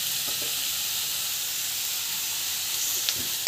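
Ingredients saute in a pan with a continuous hissing sizzle that holds at an even level, with a few faint stirring scrapes and a louder knock at the very end.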